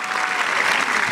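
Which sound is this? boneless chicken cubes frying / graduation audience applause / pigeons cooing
graduation audience applause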